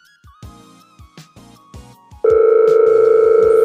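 A telephone rings in a comedic French sketch, a loud steady electronic tone starting partway through after a series of softer taps and clicks, sounding close and continuous to the end.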